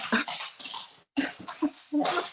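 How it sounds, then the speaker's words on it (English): A dog whimpers and whines to go outside, a series of short, close, high-pitched yelps and whines with a brief pause partway through. "my dog she wants to go outside"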